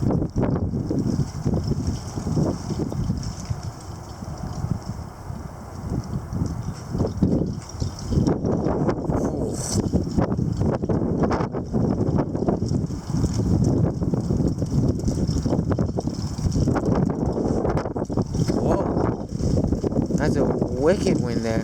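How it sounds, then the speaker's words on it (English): Strong gusting wind roars and buffets the microphone almost continuously during a February wind storm, with rustling and clattering mixed in and a person's voice heard intermittently under the noise. "That wind came from all directions."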